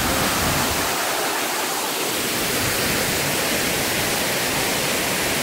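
A steady, dense roar of falling water from the first drop of Cachoeira da Chinela waterfall in Canastra, Brazil, fills everything, constant and loud without pause.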